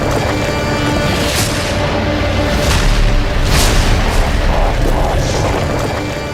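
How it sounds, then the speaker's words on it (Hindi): Tank and artillery fire in Gaza rumbles continuously, with repeated heavy booms and bursts layered over a dense, roaring background, loud and sustained without any talk. "इजरायल की सेना का एक के बाद एक टैंक और तोप से हमला जारी है"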